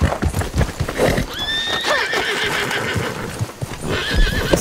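A horse in the video game Red Dead Online gives a loud whinny over busy clip-clop hoofbeats, and a second shorter neigh follows. The hooves keep going close by throughout.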